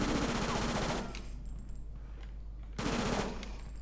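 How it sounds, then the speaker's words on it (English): Gunfire from the video game Fighting Force 2: rapid machine-gun bursts in two loud volleys separated by a quieter stretch of lingering game noise. "the gun sound effects are pretty damn good."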